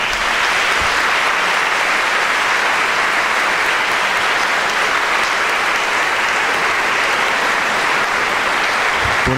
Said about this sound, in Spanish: Quisiéramos pedirle un aplauso al maestro.